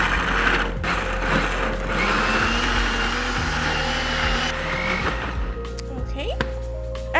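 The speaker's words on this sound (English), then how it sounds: "I'm gonna add it to my blender here." A blender chops green chilies, coriander and mint with a steady, grinding motor whir. It runs loud and continuous for most of the stretch, then cuts out near the end. A person talks over it.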